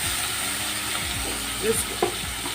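Chopped amaranth leaves frying in a pan give a steady, close sizzle with a couple of brief stirring clinks near the end; no one speaks.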